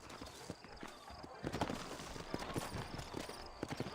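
Horse hooves clip-clopping on the ground in the Red Dead Redemption video game, a rapid, irregular run of close, moderate knocks that grows slightly louder midway, under a man's speech.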